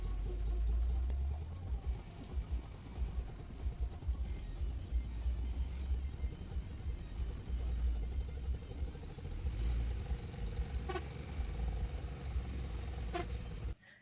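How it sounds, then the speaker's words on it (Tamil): A lorry squeezes past a bus on a narrow single-lane mountain road between Athirappilly and Valparai, its engine rumbling loud and steady close by for the whole stretch, with a few faint clatters near the end. "பாருங்கள், இந்த லாரி எப்படி சைடு கொடுத்து போகிறாங்கன்னு பாருங்கள்."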